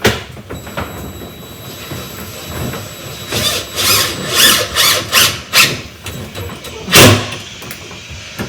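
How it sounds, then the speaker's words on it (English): A power drill bores into a strengthener during a kitchen fitting, with several loud whirring bursts that rise and fall and a final strong surge, close by with no talking. "I can get in and drill it."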